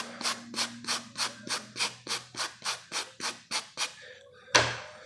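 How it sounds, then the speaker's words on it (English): A brush sweeps grime off a felt hat along the nap in rapid, regular strokes, giving about a dozen close, soft rasping swishes in a steady rhythm that end with a sharper final scrape. "I'll just take that brush, and where that grime is, I'll basically brush the hat with the nap"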